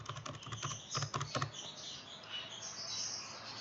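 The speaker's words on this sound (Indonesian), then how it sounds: "di sini saya akan mengetik cuci kering" Fast bursts of keystrokes on a computer keyboard, quiet and close, clustered in the first second and a half before fading into soft room noise and faint clicks.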